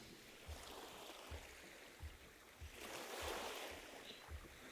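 Ocean waves wash onto a shore in a soft, steady rhythm, each low thump followed by a hissing surge, with one larger swell building and receding midway; quiet and distant, no voices.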